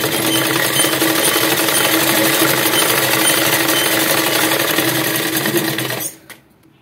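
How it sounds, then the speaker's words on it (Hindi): A sewing machine stitches a Patiala salwar in a loud, steady run of rapid needle chatter. It stops abruptly near the end and leaves a brief quiet. "हमने यहाँ तक सिलाई की और फिर हमने इसे इस तरीके से"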